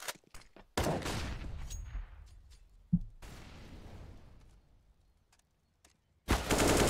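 Gunfire bursts in Counter-Strike on the Dust 2 map, with rapid spraying shots and sharp bangs that rise and fall in loud clusters, broken by short quiet gaps and a final heavy burst.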